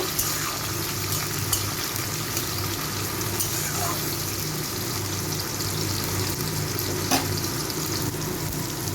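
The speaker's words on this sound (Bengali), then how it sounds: "টমেটো কাঁচা লঙ্কাটা দিয়েও আর একটু ভেজে নেব।" Potato, tomato and green chili frying in a pan, a loud, dense, continuous sizzle with occasional clicks of stirring, heard up close.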